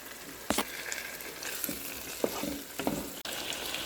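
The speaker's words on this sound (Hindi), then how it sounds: "थोड़ी थोड़ी डाल के फ्राई करनी है।" Mutton liver (kaleji) frying in a pan in small batches gives a steady, soft sizzle with a few sharp crackles and clinks of stirring, with no talk.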